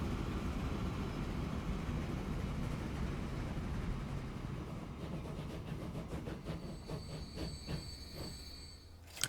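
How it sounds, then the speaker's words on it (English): A train pulls into a station in the video game Transport Fever 2, its steady rolling rumble giving way to rhythmic clickety-clack of wheels over rail joints, then a high brake squeal as it slows near the end. "the train pulls into the station"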